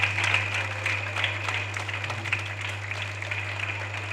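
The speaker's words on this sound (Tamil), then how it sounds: "நல்லா கைத்தட்டுங்க" An audience at a Chennai Sri Krishna Sweets program claps in scattered, light applause, a modest patter of hands over a steady low hum, fading gradually over a few seconds.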